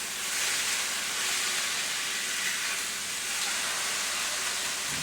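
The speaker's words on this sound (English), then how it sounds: "Oh, see, that's a nice sear." Chuck-eye beef sears in a hot pan, giving a steady, close, loud hiss that holds evenly for the whole stretch with no break and no talking.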